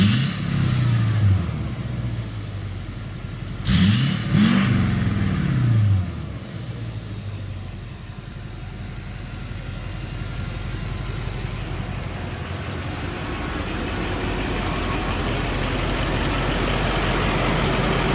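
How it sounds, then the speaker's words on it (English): A junkyard K24-swapped turbo diesel engine cranks and fires at close range, revving twice in quick bursts with rising turbo whine, then settles into a steady low idle rumble with no talking. "I haven't heard it run, so should start it up."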